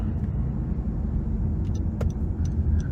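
A 2015 Honda Accord Hybrid EX-L coasting in regenerative braking mode, heard from inside as a steady low road rumble with faint intermittent ticks and clicks, no talking.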